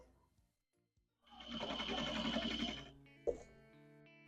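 A sewing machine runs a burst of quilt-seam stitching on a damaged vintage quilt, a steady rapid whir lasting about a second and a half, followed by a brief click and a faint hum, with no talking.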